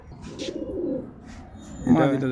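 Pigeons coo in a low, rolling murmur close by, steady through the moment before a louder, harsher burst near the end, with a voice briefly mixed in.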